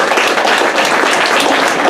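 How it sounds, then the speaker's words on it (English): Loud, steady applause from the crowd at an EMS banquet, many hands clapping together in a dense, continuous roar close by, with no voices over it. "So a round of applause for them."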